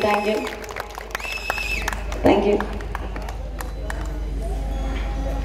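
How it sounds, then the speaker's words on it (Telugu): An audience at a public community event in Krosuru breaks into steady applause, a dense patter of clapping that carries on under talk and background music. "చప్పట్లు పెట్టండి, చప్పట్లు పెట్టండి, ఆనందించండి"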